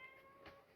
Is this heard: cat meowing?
yes